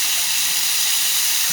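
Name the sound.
mahi mahi fish sizzling skin side down in pan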